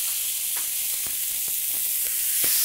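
Spiced lamb burger patties frying in a ripping-hot oiled pan, a loud, steady close-up sizzle with faint intermittent pops and crackles running throughout, no voices.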